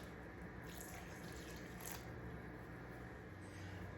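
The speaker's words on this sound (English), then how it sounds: "we're going to add 340 grams of roughly 80-degree water" About 340 grams of roughly 80-degree water poured into sourdough starter for cinnamon raisin bread: a steady, faint, close hiss of running liquid lasting a few seconds, without speech.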